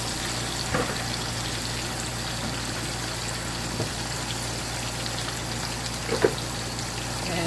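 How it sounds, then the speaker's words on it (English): Potatoes frying in hot oil for chicken feet, giving a steady, even sizzle throughout with a few faint pops and crackles, no voices. "So this is the rest of the potato, and I'm gonna fry those too."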